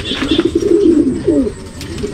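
Pigeons coo softly and continuously close by, their rolling, throaty calls rising and falling over a steady background hum.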